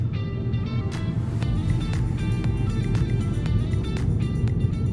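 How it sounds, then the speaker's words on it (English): A 2018 VW Golf GTE plug-in hybrid with a 1.4 TSI 204 HP powertrain drives in electric E mode, giving a steady low cabin rumble of road and tyre noise with faint ticking, and no engine roar. "Let's go for a drive in the GT. We'll start right out in E mode"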